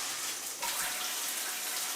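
Shower water runs in a steady, close hiss of spray with no break, and no voices are heard over it.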